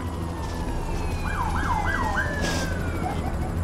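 Police sirens in The Amazing Spider-Man video game, played with PS Move: a wailing siren rises and falls a few times over a constant rumbling game background.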